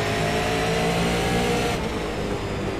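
Super late model race car at New Smyrna Speedway in iRacing pulling away and climbing through the gears, a loud, steady engine drone that holds high and continuous throughout, with no voices.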